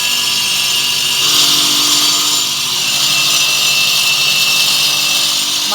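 Automatic stone cutting machine running steadily as it cuts a moulding profile, a continuous loud grinding whine with a bright high-pitched edge and no pauses, heard alone without talk.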